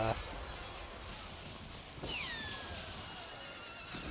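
A horse whinnies with a short call at the start and a longer, falling neigh about two seconds in, fairly faint against a steady background hiss.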